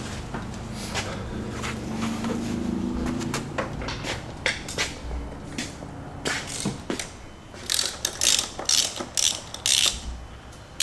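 A ratchet fitted with a 10 mm socket clicks in quick bursts while working on a Hellcat-swapped 1972 Dodge Demon engine, with rapid metallic ticking growing louder toward the end over shop background noise.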